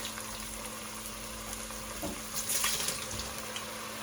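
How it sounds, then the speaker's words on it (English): Tortilla chips dropped into hot oil for chilaquiles, a steady faint sizzle and bubbling that swells briefly as more chips go in, with no talk. "Now that we have our oil up to temperature, we're gonna start adding our chips."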